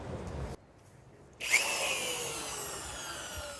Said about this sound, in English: Going to attempt to drill a hole in that now.